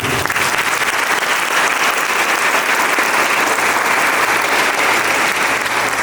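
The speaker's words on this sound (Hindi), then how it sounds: "तो सबों के लिए जोरदार तालियों के लिए हम धन्यवाद देते हैं।" Loud, continuous applause from a congregation at a confirmation ceremony, thick and even across the whole stretch with no talking over it.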